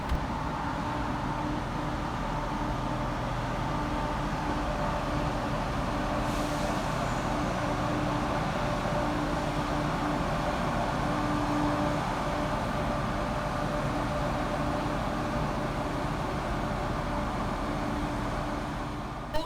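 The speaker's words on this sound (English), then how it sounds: "Arriving to terminate with an East Midlands Railway service off of Newark Castle, running 6 minutes late" East Midlands Railway unit 170-273, in from Newark Castle, arriving to terminate at Crewe station with a steady, loud, even rumble that holds through the whole stretch, no voices.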